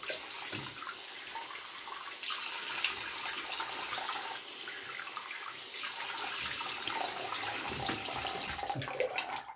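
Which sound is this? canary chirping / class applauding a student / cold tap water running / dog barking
cold tap water running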